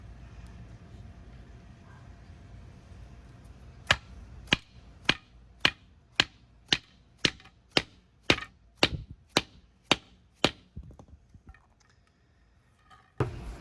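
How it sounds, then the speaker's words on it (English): A rivet nut is pounded into a hole in a flarespace flare panel while fitting a temporary blank, giving about thirteen sharp, evenly spaced metallic strikes at a steady rhythm, close and loud over a quiet low background hum. "instead of doing the normal riv nut like you would in metal, I take and pound it into here."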